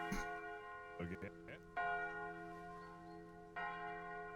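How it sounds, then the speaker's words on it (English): Church bells ring out clearly, their long sustained tones layered and overlapping, with fresh strikes renewing the peal at intervals; brief faint movement sounds appear early. "These bells."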